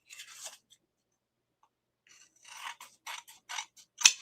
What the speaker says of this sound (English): that's where scissors come in handy. Trim away that layer, and no one will ever know.